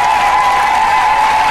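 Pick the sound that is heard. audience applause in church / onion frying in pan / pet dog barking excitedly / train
audience applause in church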